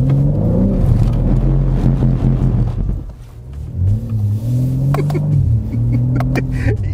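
A modified BMW M3 Touring's engine revs hard from inside the cabin, climbing and dropping through loud gear pulls, briefly easing off midway before surging again with sharp shifts.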